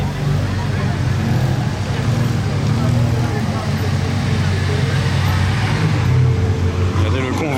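A convoy of supercars, including a Ferrari 812 SVJ and a Novitec-tuned 812 GTS, rumbles past in busy seaside street traffic with a loud, sustained engine roar, while people talk nearby.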